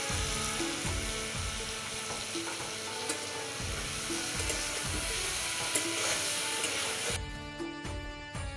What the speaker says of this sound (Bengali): পনিরটা হালকা করে ভেজে নেব,